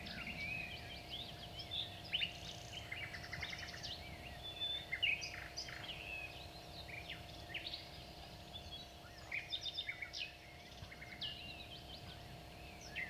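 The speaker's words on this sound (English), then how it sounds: "I found a cassette that contained only sounds of birds and animals." Faint birdsong played back from a cassette of nature sounds: scattered high chirps and short trills come and go over a steady low hum and hiss.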